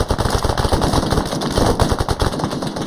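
Sustained automatic gunfire in the military video game Arma 3, rapid dense bursts filling the whole moment, loud and close with no talk over it.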